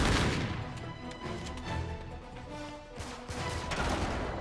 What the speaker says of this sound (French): Nothing is better than the shotgun.